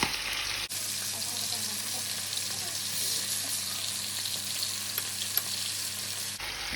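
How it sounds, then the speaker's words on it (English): Chicken wings fry in hot oil with a steady, bright crackling sizzle that holds evenly at close range, starting and stopping abruptly at either end. "we are going to fry these until they are crispy"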